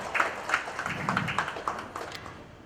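Scattered clapping from an audience at a Smile Foundation event, moderate and uneven, fading out toward the end.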